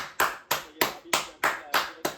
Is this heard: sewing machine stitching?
no